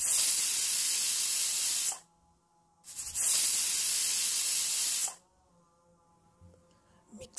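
A pressure cooker whistle vents steam while mutton cooks, giving two loud, sustained hissing bursts of about two seconds each, separated by quiet pauses; a brief spoken syllable is heard.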